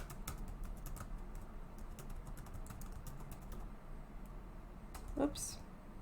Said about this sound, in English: I'm going to type down those questions that I found people are asking